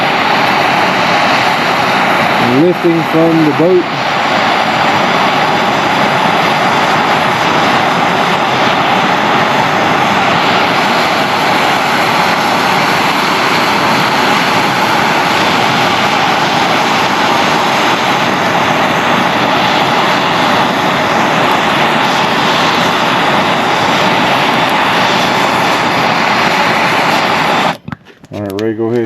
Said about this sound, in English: Got the MAP gas torch. Turn it on. Light it.